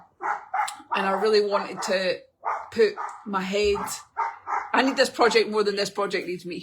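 A neighbour's dog barks in the background, its short bursts partly buried under someone talking steadily and close.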